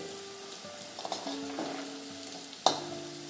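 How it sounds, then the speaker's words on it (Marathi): Onion frying in oil in a pan for a bhakri churma snack, with faint sizzling under several distinct stirring and scraping knocks and one sharp clink near the end. "कांदा तेलात छान परतून झाला आहे"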